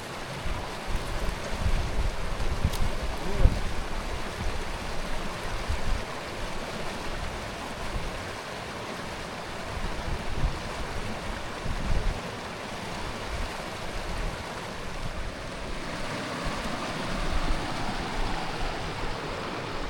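A river flows through remote New Mexico backcountry with a continuous broad rushing wash, its steady churn holding close and even throughout with slight swells and no voices.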